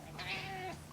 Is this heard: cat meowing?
yes